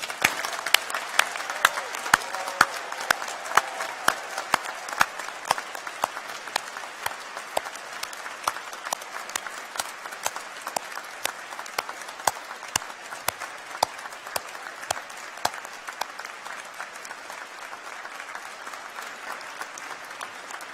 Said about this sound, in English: That's one of the longest rounds of applause I think we've heard.